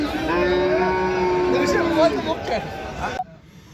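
A farm-raised cow being readied for the livestock market gives one long, loud, close moo that holds steady and then drops off abruptly, leaving quiet background.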